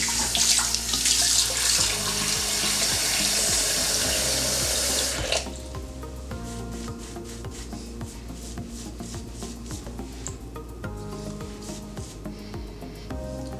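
Tap water runs steadily into a bathroom sink while someone rinses off after a wet shave. A loud, hissing stream lasts about five seconds, then drops to a softer flow with small splashes and knocks, and no talking.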